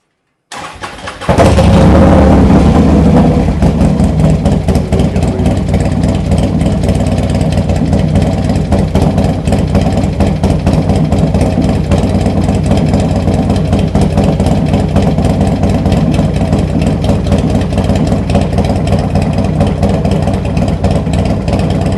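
Harley-Davidson motorcycle with a 135 cubic inch engine cranks and fires up, then settles into a loud, steady, lumpy idle close by for the rest of the time.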